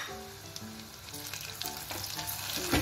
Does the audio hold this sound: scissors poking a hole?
no